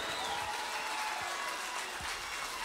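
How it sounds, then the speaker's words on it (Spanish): Audience applause fills a Hard Rock Café room during a live music show, a dense, steady wash of clapping at close range with no gaps. "El aplauso que se sienta"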